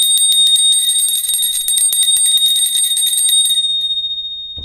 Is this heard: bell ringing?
yes